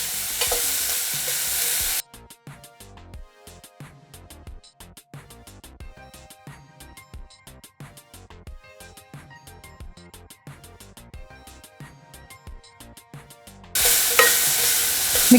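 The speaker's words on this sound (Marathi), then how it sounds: "हा छान फ्राय करून घ्यायचा थोडा." Onions frying in oil over a full gas flame for paneer bhurji, a loud broadband sizzle at the opening and close, with a long stretch of rhythmic music between.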